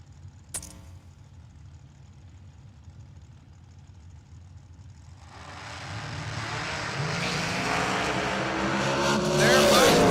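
Drag racing cars at an outlaw drag meet, including a ProCharger centrifugal-supercharged dragster: a sharp bang early, a low idle rumble, then engines swelling to a loud, roaring buildup toward the end.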